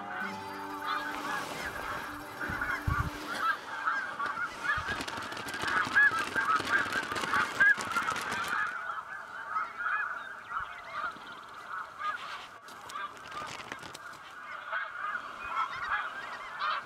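Snow geese honking over a decoy spread during a Kansas hunt, a dense chorus of overlapping nasal calls that swells loud early and thins to scattered distant honks later.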